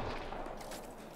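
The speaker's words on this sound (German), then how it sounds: "War ein Schuss." Gunfire from the modded video game Mass Effect Andromeda, on Kadara, comes as a brief, fairly faint burst of noisy shot sound lasting about a second, with no talking over it.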